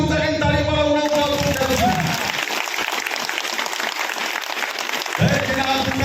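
A crowd at a political meeting breaks into loud, dense applause that lasts several seconds. Someone speaks over the start and end of the clapping.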